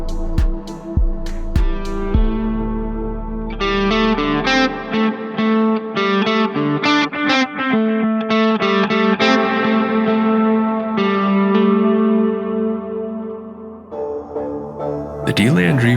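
A guitar plays through a Shift Line Everest II delay and reverb pedal, a shimmering line of notes and chords with an echoing, washed-out tail, loud and continuous throughout.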